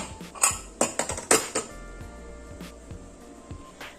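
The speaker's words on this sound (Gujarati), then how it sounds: "કુકરનું ઢાંકણું ઢાંકીને" A pressure cooker lid is closed on a pot of Gujarati khichdi, giving a burst of sharp metallic clanks and clinks in the first second and a half, then quieter scattered taps against a low kitchen hum.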